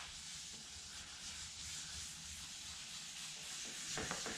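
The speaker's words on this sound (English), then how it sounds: "And we are going to rub that in like that." A rag saturated with finish is rubbed steadily into a wooden pizza peel, giving a continuous close, soft scrubbing hiss with no talk, growing slightly firmer near the end.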